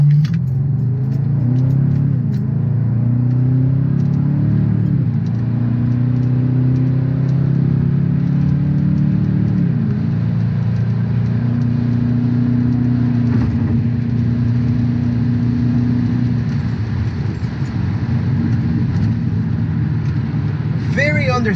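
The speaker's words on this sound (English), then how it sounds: "When I get on the freeway, I always put it on sport mode. So let's just see what that sounds like." A BMW E38 with its muffler deleted, running in sport mode on a freeway, gives a loud, steady, deep exhaust drone that rises and shifts as it accelerates.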